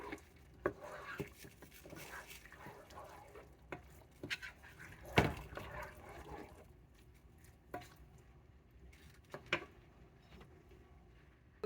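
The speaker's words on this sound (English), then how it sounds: "Gentle stir." Pinto beans are stirred gently in a pot with a spoon, giving soft, scattered scrapes and light clinks, with a sharper knock near the middle; quiet throughout.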